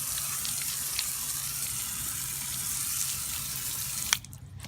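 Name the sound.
washing off a sanded wheel rim with water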